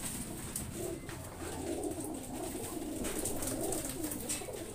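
Racing pigeons coo steadily in a loft in Gimba, Nueva Ecija, a soft, continuous chorus of low cooing from many birds over a constant background hum.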